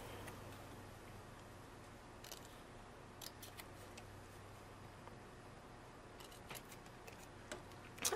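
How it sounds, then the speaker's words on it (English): Scissors cutting white cardstock into small triangles: faint, intermittent close snips and ticks scattered over a quiet hiss, with a slightly louder clip at the very end. "So I'm going to cut my white piece of cardstock, and we're just going to"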